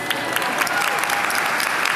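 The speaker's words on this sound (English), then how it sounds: "let's give a round of applause for all parents and families" Commencement audience applauds warmly, a dense continuous clapping wash at fairly loud level with many overlapping hands and no gaps.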